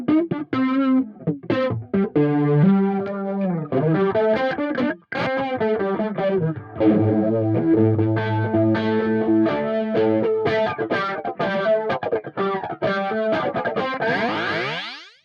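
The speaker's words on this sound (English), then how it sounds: "it makes flanger sounds" Electric guitar through an Earthquaker Devices Pyramids flanger pedal set to envelope-triggered sweeps, sharp picked notes and chords smearing into whooshing, jet-like swirls, loud and up close with no talking, closing on a rising swept tail.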